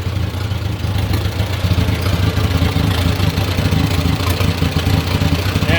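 An old 1950s Farmall Model A tractor engine idling close by, a steady low chugging rumble that runs without a break and holds an even loudness throughout.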